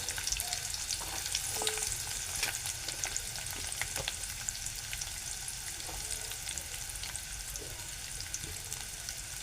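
Cumin seeds and chopped onion fry in a pan for a Marathi vegetable dish, sizzling continuously with scattered crackles and pops and the occasional scrape of stirring.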